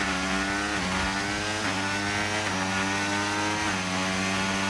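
A Formula 1 car engine in the racing game F1 25 drones steadily and loud throughout, its pitch rising and dropping in repeated upshift steps as the car accelerates.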